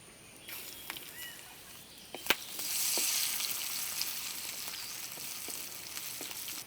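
Mustard seeds and chopped coconut dropped into hot oil in a pan, starting with scattered pops and then rising into a steady close sizzle and crackle with occasional sharp spits.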